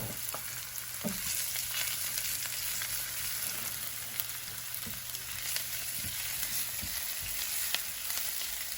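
Onions fry in oil until browning, giving a steady crackling sizzle throughout with occasional soft clinks and scrapes of stirring, close and fairly quiet, no voices.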